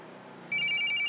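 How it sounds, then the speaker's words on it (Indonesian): A telephone bell starts ringing halfway through, a bright, steady electronic trill that comes in loud and close over a quiet room, with no one speaking. "Ada telepon."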